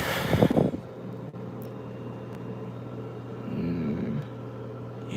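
A front-loading washing machine spinning at 1160 RPM gives a steady, even low hum with a faint whine, opening with a brief louder knock and swelling slightly toward the end.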